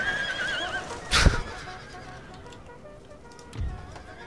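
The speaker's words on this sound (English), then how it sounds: "There's a lot of horses dying." Horses neighing amid a cavalry clash in the Empire: Total War strategy game, with one sharp whinny and thud burst followed by a lower rumbling impact later over a continuous battle din.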